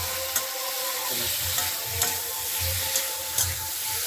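Spices and oil stir-fried in a pan for aloo dum, a dense close sizzle under repeated spatula strokes with a few soft scrapes and clinks against the pan.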